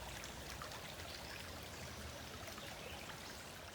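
Creek flowing beside a woodland nature trail, a faint, steady babbling trickle of water that continues evenly with no voices.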